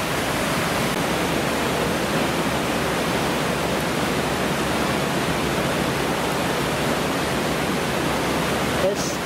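Water rushes from the Fontaine de Vaucluse spring as a loud, steady roar with no breaks, close and unbroken from start to end.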